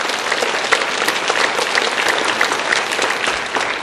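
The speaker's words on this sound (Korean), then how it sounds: "하나님께 한번 영광의 박수 한번 드립시다." A church congregation claps together during a Sunday worship service, a dense, steady wash of applause that holds evenly throughout without pause.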